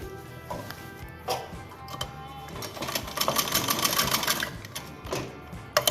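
Sewing machine running in rapid bursts while stitching a baby frock, steady mechanical needle clatter close by, speeding up and pausing in short runs.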